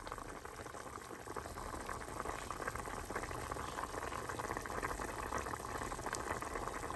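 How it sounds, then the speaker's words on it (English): A pot of Vietnamese braised pork ribs and eggs in caramel syrup boils steadily, a soft, continuous bubbling hiss heard fairly faint and alone. "so now my pot had come to a boil"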